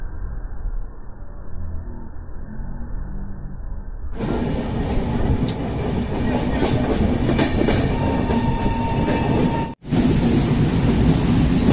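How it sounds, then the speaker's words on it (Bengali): The 12345 Howrah–Guwahati Saraighat Express crosses the Farakka bridge with a loud, continuous rumble and rhythmic clickety-clack of wheels. A muffled start opens up into full rattling noise, broken by a momentary dropout near the end. "এখন ট্রেন পাস করছে ফারাক্কা ব্রিজের ওপর দিয়ে।"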